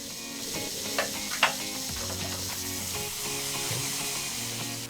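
Water and sugar syrup heating in a pan for caramel, a low continuous sizzling bubble with a couple of sharper clinks early on, fairly quiet and steady throughout.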